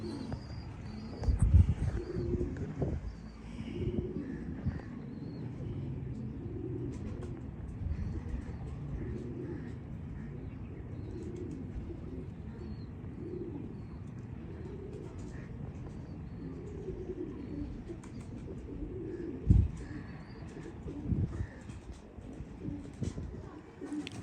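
Pigeons kept for breeding, a selected male paired with a female, coo in steady low murmuring phrases that repeat throughout, with a couple of brief louder knocks and faint background noise.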